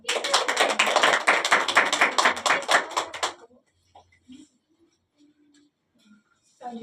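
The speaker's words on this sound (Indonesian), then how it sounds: "Beri tepuk tangan untuk kelompok 1 dan 2." Classroom students burst into dense, steady clapping for about three seconds, then it stops abruptly, leaving near-silence with a few faint scattered sounds.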